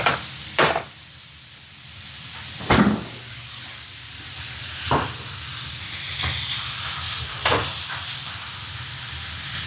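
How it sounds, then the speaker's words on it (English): Steak sears in a hot pan with a steady sizzling hiss, broken by a few sharp clinks and taps of utensils at spaced intervals; no one talks over it. "So while this is getting a nice sear, you want to just let it sit without moving it."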